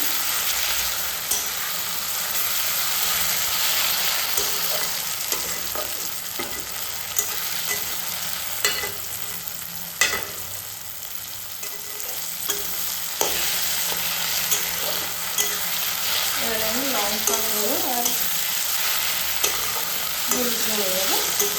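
Spicy chicken with green chillies cooks in a pan, sizzling steadily for a long stretch while a utensil stirs and taps now and then, close and constant.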